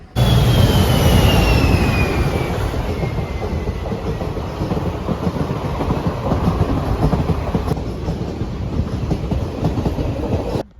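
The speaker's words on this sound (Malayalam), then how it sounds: "ഡീസൽ എഞ്ചിൻ്റെ ഒരു ട്രെയിൻ വരുന്നുണ്ട്" A diesel-engine train passes along a railway track near a house, a loud, steady rumble with rattling wagons that holds for about ten seconds, with no one talking.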